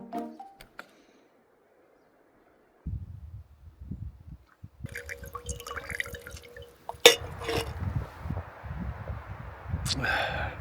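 Filtered water from Lupine Lake in Flathead National Forest, Montana, drips and trickles faintly in a quiet setting, with small clinks and a sharper splash partway through.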